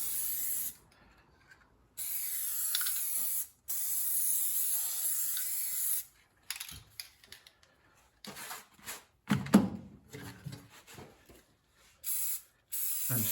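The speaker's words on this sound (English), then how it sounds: "I'm spraying the seam primarily, and the edges" Spray can misting adhesive onto the seams and edges of a 1950s MG TD car interior, several long steady hissing bursts close by, separated by pauses and small handling noises.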